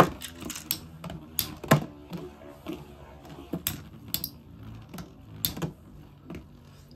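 A light-launched Beyblade spinning in a plastic stadium, giving a run of sharp clicks and rattles as the top strikes the walls, at close range with no speech.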